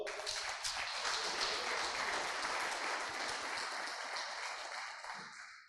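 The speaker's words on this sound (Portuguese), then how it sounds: "Você pode aplaudir o Senhor?" A church congregation applauding, dense sustained clapping from many people that swells early and slowly fades toward the end, fairly close and with no speech over it.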